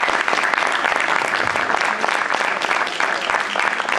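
An Argentine audience applauds warmly in a dense, continuous patter of many hands clapping, loud and close, with faint murmurs mixed in.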